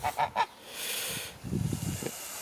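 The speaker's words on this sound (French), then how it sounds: "on est chez Mesdames les Oies" Several geese honk nearby in their enclosure in a small orchard, in quick bursts, first three sharp calls, then a noisy flurry of lower honks and cackles.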